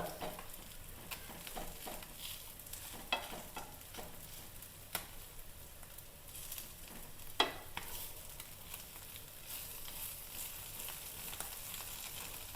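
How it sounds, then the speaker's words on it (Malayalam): Pearlspot fish sizzle in hot oil in a pan, with a steady close frying hiss broken by sharp scraping clatters as the pieces are turned over; no one talks. "അപ്പോൾ പള്ളത്തിയൊക്കെ ഞാനെല്ലാം മറിച്ചിട്ടോ."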